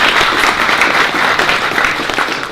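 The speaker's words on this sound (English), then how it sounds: "Have a round of applause for Nilanjan" Conference audience at Lambda Days 2015 applauding a speaker introduced on stage, a steady, close burst of clapping filling the whole short stretch.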